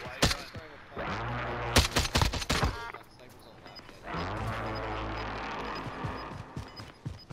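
Gunfire in a team shooter video game, sharp bursts of rapid shots early on, then scattered cracks and combat noise with voices talking over it.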